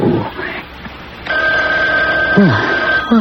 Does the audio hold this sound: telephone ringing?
yes